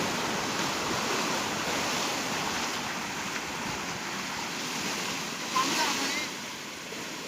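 Sea waves wash continuously onto Tambaldeg beach in Devgad, Sindhudurg, a broad steady surf roar mixed with wind buffeting the microphone.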